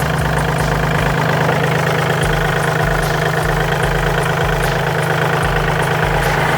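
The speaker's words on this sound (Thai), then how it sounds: "ดูเครื่องยนต์ครับ" A used 2019 John Deere 3036E compact tractor with a Yanmar-family diesel idles steadily up close, a low, even rhythmic chug with light knocking throughout.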